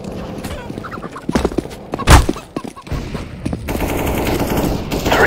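Gunfire in a CS:GO team deathmatch on Mirage: sharp, loud shots and rapid bursts mixed with game clatter, followed by a steady background hum.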